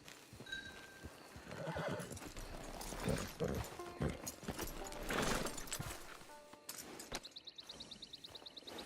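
In the video game Red Dead Redemption Online, a horse whinnies loudly up close amid a busy mix of game sounds, then its hooves clip-clop in a quick, steady rhythm toward the end.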